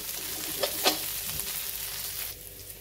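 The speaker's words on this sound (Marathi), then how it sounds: "आपण छान तळूनच घ्यायची ही कोथिंबीर" Coriander leaves fry in a pan for a chutney with flaxseed, niger seed, garlic and curry leaves, giving a steady close sizzle with a couple of brief louder crackles, then easing off quieter near the end.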